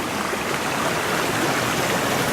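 A brook flows through the woods near a small bridge, producing a steady, close, broadband rushing of water with no breaks and no voices.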